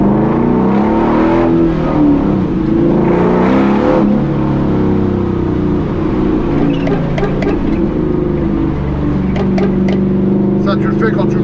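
A Ford Mustang GT500 Eleanor's engine revs and roars loudly on the road, surging in bursts, with excited voices talking over it.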